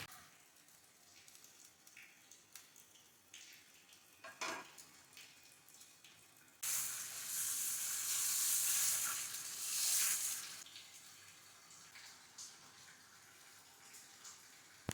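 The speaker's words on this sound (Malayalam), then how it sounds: "ബീറ്റ് ചെയ്ത് വെച്ച മുട്ട 2 ടേബിൾ സ്പൂൺ ഒഴിച്ച് ഇതിലേക്കൊന്ന് സ്പ്രെഡ് ചെയ്ത് കൊടുക്കുക" Beaten egg sizzles on a hot dosa pan, a quiet crackle punctuated by soft utensil scrapes, rising to a louder steady frying hiss for a few seconds before settling back to a faint sizzle.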